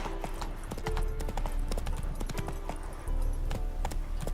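Roach, the horse in The Witcher 3, trots with a brisk, steady clip-clop of hooves, close and loud, with a few faint snorts and a low rumble beneath.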